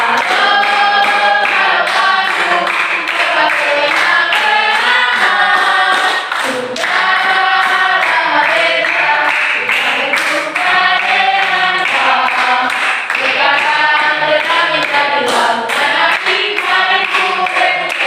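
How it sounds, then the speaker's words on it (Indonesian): A school class sings the song Halo Bandung together while clapping their hands in a steady, regular beat. Loud, continuous group singing fills the whole stretch, with the claps running underneath it. "Kita menyanyi lagu Halo Bandung ya. Sambil tepuk tangan dengan semangat."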